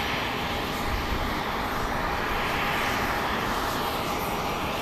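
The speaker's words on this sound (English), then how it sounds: "That's a plane landing on the east side." A plane lands at Dallas Love Field Airport at night, heard as a steady, broad engine roar that holds at an even loudness throughout with no voices.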